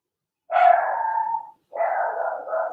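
A dog lets out two drawn-out, whining barks separated by a short pause, fairly close and moderately loud in an otherwise quiet room.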